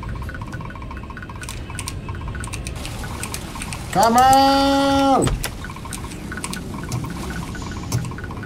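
Running water from a faucet in a video game, a loud tonal gush that starts abruptly, holds for about a second, then cuts off, set against steady background game sound with a brief spoken exclamation.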